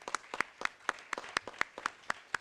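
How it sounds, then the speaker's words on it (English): A small audience claps briefly at a talk on open data and public procurement, a dozen or so distinct, fairly near claps in a loose, uneven rhythm with no voices over them. "Could we give them a quick round of applause?"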